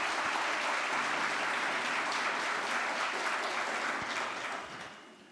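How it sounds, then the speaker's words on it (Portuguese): Congregation clapping inside a church during a Catholic novena Mass, a steady dense wash of applause that holds evenly and then fades out toward the end. "Damos aplauso para eles."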